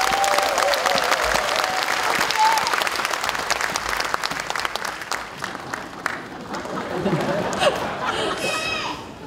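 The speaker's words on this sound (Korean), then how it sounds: "여러분 그 수고에 대해서 큰 박수 한번 보내주시기 바랍니다." Warm applause from delegates at a Democratic Party Daejeon chapter convention, a steady wash of clapping mixed with crowd chatter that gradually thins out as voices come through.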